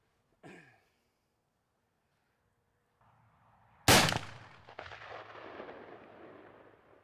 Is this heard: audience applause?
no